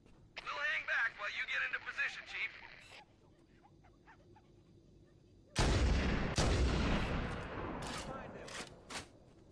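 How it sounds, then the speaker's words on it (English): A sniper rifle in the video game Halo: Combat Evolved fires as a loud, sharp blast with a long, echoing decay, one heavy shot followed by a second. Players talk quietly over the game sound just before it. "I don't know how you're supposed to be stealthy with a sniper rifle."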